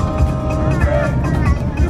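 A car's interior hum carries steadily while driving to Costco, a loud, even low rumble of engine and road noise with no break.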